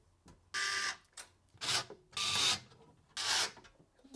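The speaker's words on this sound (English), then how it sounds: "that's actually the whole rack moving because I only installed two screws." A wall-mounted vertical 4U network rack held by only two screws shifts and rubs against the wall, producing four loud, close scraping rasps in an irregular rhythm with short quiet gaps between them.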